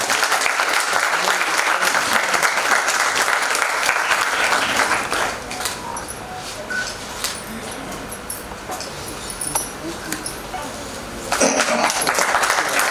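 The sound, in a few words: audience applauding loudly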